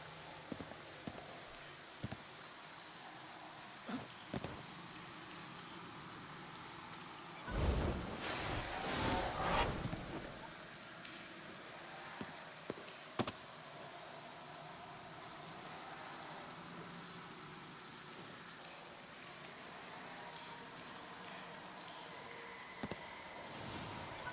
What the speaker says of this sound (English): Why is it raining upside down?